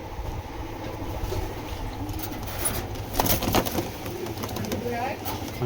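Racing pigeons coo softly close by in a loft while someone talks throughout, with occasional wing rustles and a low steady background hum.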